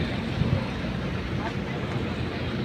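A steady low drone from a ship's running engine at Matnog, Sorsogon, loud and continuous throughout with broadband rumble, mixed with faint background voices.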